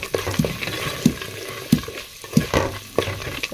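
Garlic frying in a pan during home cooking, a soft continuous sizzle broken by repeated scraping strokes of a spoon stirring, close and moderately loud with no voices.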